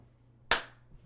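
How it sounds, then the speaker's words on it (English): A single sharp hand clap rings out close and loud after a quiet moment, followed by a faint rustle. "I'm gonna clap."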